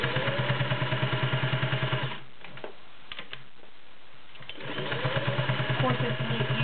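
A Singer Touch & Sew 603E all-metal, gear-drive sewing machine stitches through ten layers of cotton with a fast, steady mechanical clatter, pausing for a couple of seconds in the middle before running again.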